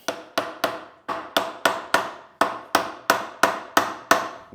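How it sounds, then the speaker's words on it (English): A hammer taps a seal into place on a Toyota 80 Series transfer case during a rebuild: about thirteen sharp, evenly spaced metallic knocks, close and clear, each ringing briefly before the next, with no talking. "I'm gonna grab a hammer,"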